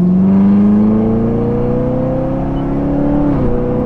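Corvette C7 ZR1 with a 765 hp V8, heard from the passenger seat: a loud, steady engine drone that rises slowly in pitch, then drops near the end as the revs fall, with no talking.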